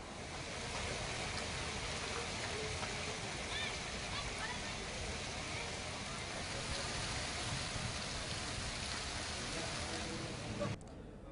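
Rain falling across a city area of Bhavnagar, a dense, continuous hiss and patter at steady level throughout, cutting off abruptly near the end.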